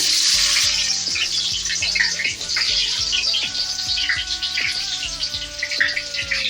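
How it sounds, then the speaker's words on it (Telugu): Onions frying in hot oil with whole spices for country chicken curry: a loud, continuous bright sizzle with crackles, accompanied by steady tonal sounds in the background. "ఆనియన్స్ బాగా ఎర్రగా ఫ్రై అవ్వాలి ఇలా వేసుకొని బాగా ఫ్రై చేసుకోవాలి"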